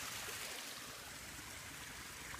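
Water trickles and splashes steadily down into a warm crater pool, a continuous broadband wash with no breaks or voices.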